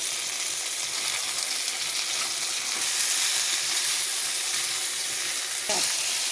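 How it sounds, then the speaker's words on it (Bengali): Cauliflower, carrot and beans frying with chicken for an Anglo-Indian chicken chow chow, a steady close sizzle and hiss with occasional stirring scrapes and no talk. "আমি 3 মিনিট সবজিটা ভেজে নিয়েছি, মানে চিকেনের সঙ্গে।"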